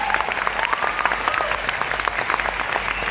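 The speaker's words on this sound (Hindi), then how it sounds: "जोरदार तालियां बजाइए" A crowd at a training seminar claps enthusiastically, dense continuous applause filling the room without pause.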